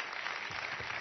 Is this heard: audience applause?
yes